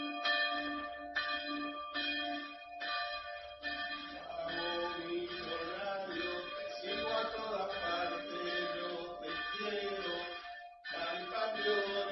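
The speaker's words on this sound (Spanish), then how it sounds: "se hizo viral por celebrar el campeonato de River a los campanazos" Church bells in San Lorenzo ring out for River Plate's championship, with a persistent, resonant clanging of overlapping strikes in uneven rhythm that continues loudly and without pause, heard with no talking.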